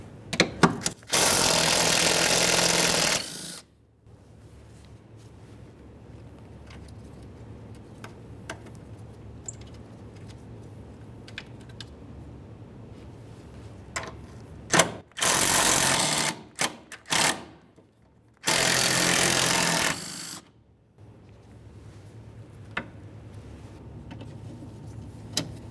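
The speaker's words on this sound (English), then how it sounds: "Once you have all of those 10mm headed bolts out, we're going to continue on to 4 13mm headed bolts." Removing 13mm bolts while replacing the knock sensor on a 2012-2018 Nissan Altima 2.5L four-cylinder: a power tool whirs in several loud, close bursts, the longest at the start, with quieter clinks and handling noises between them.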